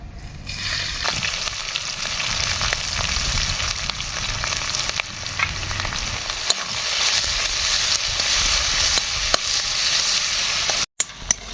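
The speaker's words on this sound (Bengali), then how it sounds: "পেঁয়াজ হালকা লাল লাল করে ভেজে নিয়েছি" Chopped onions fry steadily in hot oil with cumin seeds, dried red chillies, whole garam masala and bay leaves, giving a loud, continuous close sizzle with occasional soft stirring scrapes.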